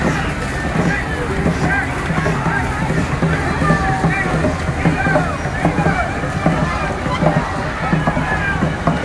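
Dragon boats race in a regatta on Sydney harbour, oars splashing in quick rhythm, close and loud beneath crowd noise and a commentator's voice.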